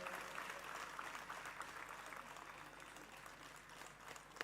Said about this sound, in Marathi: नंदू परब यांच्यासाठी सर्वांनी जोरात टाळ्या वाजवून त्यांचं स्वागत करायला हवं